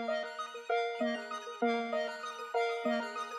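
A dark layered melodic loop built in FL Studio, with repeating synth notes stacked in several tones, evenly pulsing and sustained, quiet and without voices.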